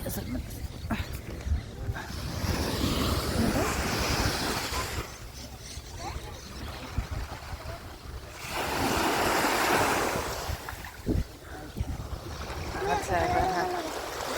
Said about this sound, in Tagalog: Ay, kanindot sa dagat.